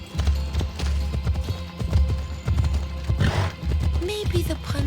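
A horse gallops in Assassin's Creed Odyssey, with a brisk, close clip-clop of hooves pounding in a steady running rhythm over a low rumble, with a brief tonal sound near the end.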